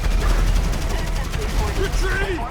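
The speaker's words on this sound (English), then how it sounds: "a regular gun makes everything blow up like this" Explosive ammunition from a regular gun in the GTA 5 video game makes continuous rapid gunfire and popping blasts, loud and dense throughout, with someone talking over it.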